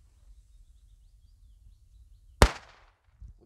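A single dull firecracker bang goes off close by in a quiet outdoor setting in the Czech Republic, sharp at onset and trailing off quickly, followed a moment later by a faint low thump.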